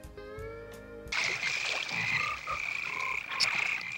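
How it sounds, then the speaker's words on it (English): Frogs croaking in a swamp in the 1987 film Frog, a dense chorus of repeated croaks over a steady watery background, fairly loud and close after a brief musical opening. "Arlo and Susie stand in a swamp and start kissing frogs"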